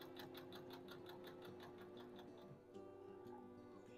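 A sewing machine chain stitching quilt pieces runs in a steady, rapid mechanical rhythm of needle clicks, close and moderately quiet, pausing briefly before resuming.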